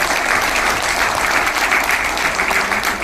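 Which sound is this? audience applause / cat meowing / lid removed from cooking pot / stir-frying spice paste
audience applause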